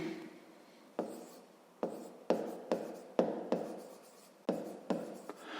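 Handwriting with a pen or marker for a fifth-grade maths exercise comes in about eight separate stroke bursts, each a sharp scratchy onset trailing off. The sounds are close and alone, with no talk.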